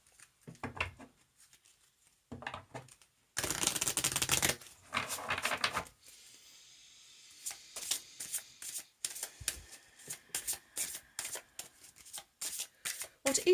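Sacred Light Oracle cards by Anna Stark are shuffled by hand in separate bursts. Short soft riffles come first, then a long loud shuffle, then a quick run of crisp snapping riffles, all close and with no talk.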